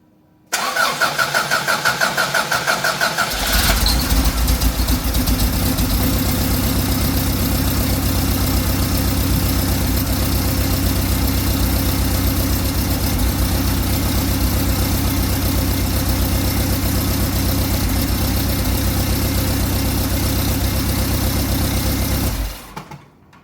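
A Volkswagen Vanagon engine, just fitted with new fuel lines, cranks briefly and catches, then settles into a steady, loud idle that runs uninterrupted for about twenty seconds before being shut off.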